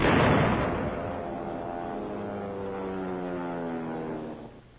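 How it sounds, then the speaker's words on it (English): A 6-inch howitzer bombardment on the north wall of Fort Dufferin, Mandalay, opens with a loud blast that decays into a long rumbling roll with a steady droning hum beneath, fading toward the end. "6-inch howitzers pound the north wall."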